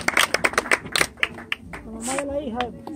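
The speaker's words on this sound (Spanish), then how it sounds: "Aplauso para la mamá." A small group claps for a mother at a daughter's birthday celebration, a few close, irregular sharp claps for about two seconds that fade as a voice begins singing or speaking.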